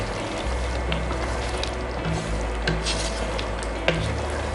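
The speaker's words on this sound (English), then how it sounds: "Also, I'll be adding some chopped coriander. Stir it really well." Chicken karahi with chopped coriander being stirred in a pan, a steady low cooking rumble under repeated spoon scrapes and light clinks against the metal, with a few sharper knocks standing out.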